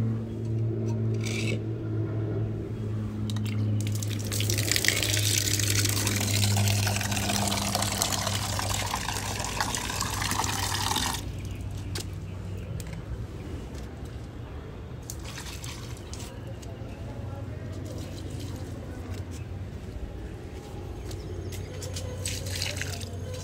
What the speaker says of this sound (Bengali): জল দিয়ে নিচ্ছি।